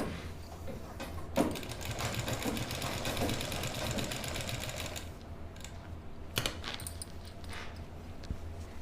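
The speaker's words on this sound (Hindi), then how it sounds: "कुर्ती को साइड में हटा देना है और इस पट्टी के ऊपर सिलाई कंप्लीट कर लेंगे" A sewing machine stitching a lining strip onto a kurti, running as a steady moderate rattling hum for several seconds, then quieter handling clicks and a sharp thump afterward.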